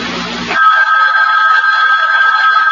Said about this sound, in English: Well, Miss Greenway, aren't you going to answer it? Answer? The phone.